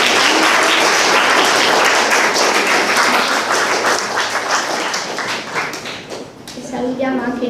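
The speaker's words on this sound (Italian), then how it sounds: "facciamo un bel applauso." Audience at a high school language-week event in Italy bursts into loud, close clapping that fills the room, tapering near the end as a voice starts talking over it.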